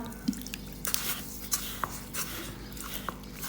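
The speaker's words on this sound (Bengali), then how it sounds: "জল দিয়ে দিলাম" Water is poured onto semolina dough for chandsa pitha, giving a few soft drips and small wet splashes, quiet and close, with no voices.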